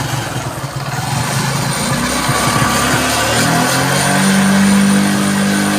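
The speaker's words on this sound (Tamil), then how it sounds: "வண்டியை ஸ்டார்ட் பண்ணி ரேஸ் பண்ணுவோம்." A TVS XL100 moped engine with an altered regulator runs steadily and revs up, its low drone swelling louder toward the end with a rising pitch, no voices over it.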